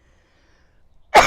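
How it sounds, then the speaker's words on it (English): A single short cough bursts out abruptly after near silence, close and loud, from someone outdoors on a garden tour. "Sorry about the coughing."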